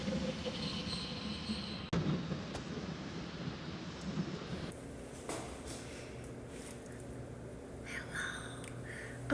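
Train rumbling at a railway station, a steady low rolling noise with a brief metallic clank near the two-second mark, then a quieter hum with faint high squeals toward the end.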